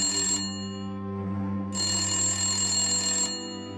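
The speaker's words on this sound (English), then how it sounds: "Roni was in the bedroom taking a quick nap when his phone rang" A landline-style telephone rings in a home bedroom, two long electronic ring bursts separated by a short pause, steady and fairly close, with a low hum underneath and no voices.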